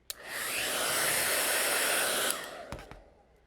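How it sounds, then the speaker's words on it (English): A hair dryer blows steadily at close range for about two seconds, warming beeswax sheets for a rolled candle, then switches off, leaving a few faint clicks and handling sounds. "But the hairdryer is nice because it just makes it nice and even and warm"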